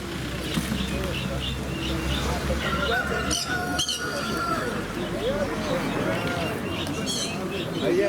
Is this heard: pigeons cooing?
yes